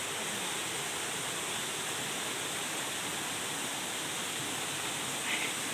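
Water of a small waterfall tumbles over stone terraces at Khao Sip Ha Chan, Chanthaburi, giving a continuous even roar close by and no talking.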